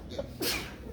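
A single short sneeze bursts out midway through a quiet lecture hall, near and sharp, with faint breathing and room murmur around it.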